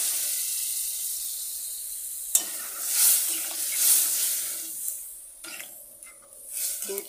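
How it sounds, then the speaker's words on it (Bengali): Water poured into a hot pan of curry on a home stove bursts into sharp sizzling and hissing, with a few stirring clatters and bubbling surges that rise and fall over several seconds. "জল দিয়ে দিচ্ছি এখন।"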